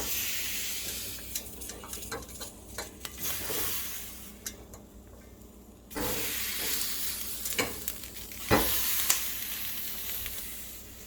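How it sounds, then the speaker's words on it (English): Tomatoes and peppers sizzling on a hot grill pan for homemade salsa, a steady close frying hiss with occasional sharper crackles and a few clinks of utensils. "I'm gonna go ahead and put my tomatoes directly on the pan here,"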